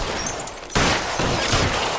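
Gunfire in the L.A. Noire video game: a sharp, loud shot bursts in and leaves a dense, sustained blast of noise filling the rest of the moment, with no talking.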